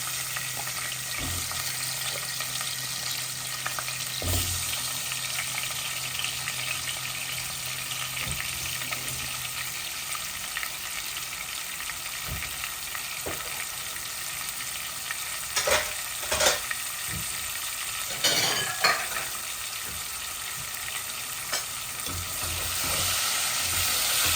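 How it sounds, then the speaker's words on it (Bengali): Potatoes fry with turmeric in oil, a continuous close sizzle punctuated by occasional clattering stirs of the spatula in the pan, steady throughout with no speech. "তো আমি আলুগুলা প্রথমে ভেজে নিচ্ছি হলুদ দিয়ে দিয়ে"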